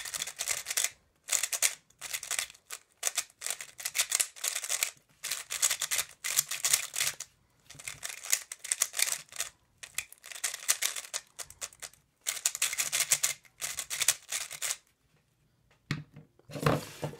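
A YJ MGC 3x3 speed cube being turned, giving bursts of rapid, dense clicking and clacking that stop and start in short runs, close and fairly loud, with no talking.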